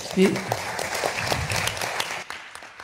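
Brief audience applause at a French solar thermal energy conference, moderate scattered clapping lasting under three seconds before it tails off abruptly.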